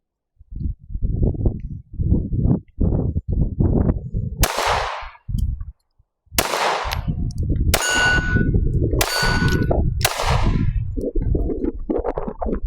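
Compact pistol fire, a Glock 43X MOS or Shadow Systems CR920XP, on an outdoor range: several sharp loud reports, each followed by a ringing metallic clang off a steel target, with low rumbling in between.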